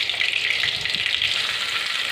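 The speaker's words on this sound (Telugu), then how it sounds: "ఇప్పుడు ఈ నూనె కాస్త వేడెక్కాక ఇందులోకి ఒక క్యూబ్ బటర్ అనేది నేను యాడ్ చేసుకుంటున్నాను." A cube of butter melts in hot oil in a pan for paneer curry, giving a steady, even sizzle with no pauses and no voices.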